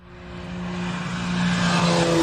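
Airplane flying in an animation, a steady engine drone with a sustained low tone that builds gradually louder over a couple of seconds, with no talk.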